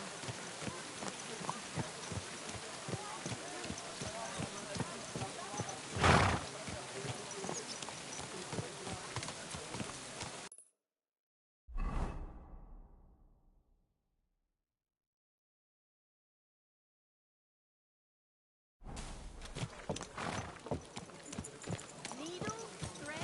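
Horse hooves clip-clopping in a steady rhythm in Kingdom Come Deliverance 2, with a brief louder burst midway, then a stretch of near silence before the hoofbeats return; talk may sit faintly underneath.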